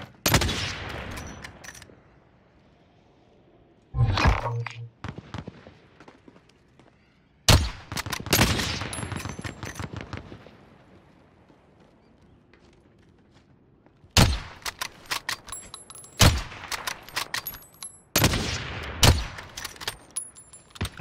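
Gunfire in a shooter video game, with a Kar98 rifle among the weapons, comes in loud bursts and volleys separated by quieter stretches, some shots sharp and close, others rattling in quick succession.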